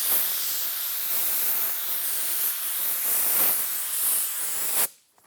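A paint spray gun hisses in a loud, steady broadband rush of air and atomized paint, pulsing slightly with each pass before the trigger releases and it stops abruptly.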